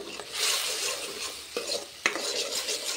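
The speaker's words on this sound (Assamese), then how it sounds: "অলপ সময় ফ্ৰাই কৰি ল'ম" Egg curry base frying with a little salt and turmeric in a pan, a close steady sizzle with the scrape of a spatula stirring and two sharper knocks of metal against the pan.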